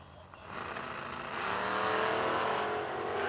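A Ford Mustang race car with a Ford engine roars past at a drag strip, its engine note swelling loud and close, then holding a sustained rising drone.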